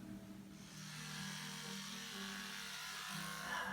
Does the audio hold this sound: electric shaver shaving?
yes